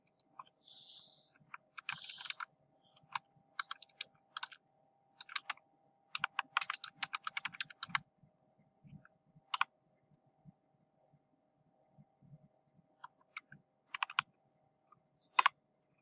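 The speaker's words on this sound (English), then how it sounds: "I'm going to type something" Bursts of typing on a computer keyboard, with clustered keystrokes separated by pauses, close and fairly quiet, with no one speaking.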